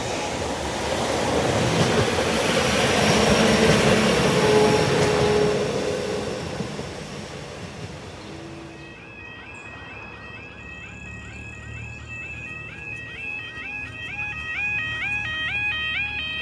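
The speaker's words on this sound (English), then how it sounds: "The 11:31 Northern Train service from Lincoln Central to Leeds," A Northern train service from Lincoln Central to Leeds passes Saxilby level crossing, a loud broad rumble that builds, peaks and fades over several seconds, followed by a repeating warbling crossing alarm that continues quietly.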